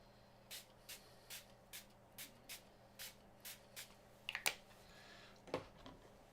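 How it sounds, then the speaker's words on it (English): Short hissing bursts of a spray can in a quick, regular series, followed by a few rattling shuffles and louder sprays near the end. "So we're just going to go in quickly with our sprays."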